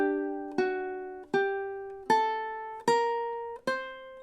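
A ukulele plays a measure of a song as five separate plucked chords and notes at a steady, unhurried pace. Each one rings bright and clear before fading. There is no talking.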